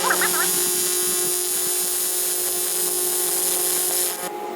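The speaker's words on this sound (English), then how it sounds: "I can't tell what you can see while I'm welding." Lincoln Squarewave TIG welder laying a pad weld, a steady high-pitched electric buzz and hum that stays constant, with brief voice sounds near the start, then fades slightly at the end.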